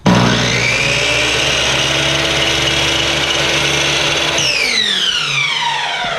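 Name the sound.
power saw trimming cargo trailer window trim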